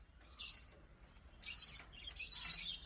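Newly bought pet cockatiels give three short bursts of high chirping, soft and fairly close, with quiet pauses between them.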